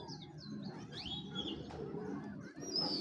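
A pair of Kamagar pigeons on a farm coo softly, mixed with faint chirps and a few high calls, quiet and close, with no speech.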